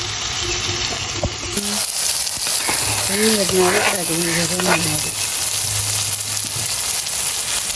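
Tomatoes sauté in a pan of hot oil, giving a steady, fairly loud sizzle throughout with a brief murmuring voice in the background partway through.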